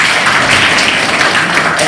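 Students in a class clap together, a steady dense patter of many hands holding at an even level throughout.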